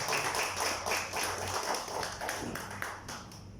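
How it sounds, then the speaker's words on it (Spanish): An audience at a lecture on the 100-year history and tradition of Barrio de San Bruno claps in a brief, moderate burst, with individual claps audible at mid distance. "les pido un fuerte aplauso"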